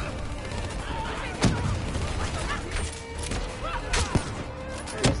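Video game gunfire from a swarm launcher in a chaotic firefight, with a few sharp bursts cutting through dense background action and voices talking over it.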